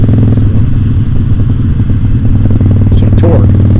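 A motorcycle engine pulls hard with steady low rumble on an evening ride, loud and close, with wind rush throughout.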